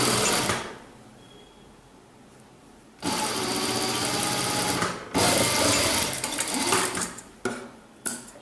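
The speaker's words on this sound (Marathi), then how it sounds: "अर्धा इंचाच्या अंतराने आपण बॅक आणि फ्रंट एकत्र ठेवून याची साईड शिवून घेणार आहे." Sewing machine stitching the side seam of a baby jumpsuit, running in several bursts of rapid whirring separated by short pauses, close and clear with no talking.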